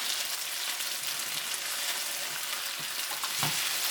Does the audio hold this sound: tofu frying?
yes